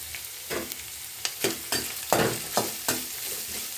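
Vegetables sizzle in a pan as veg fried rice is made Karnataka style, with a utensil stirring and scraping in several distinct scrapes over steady frying, close up and without speech.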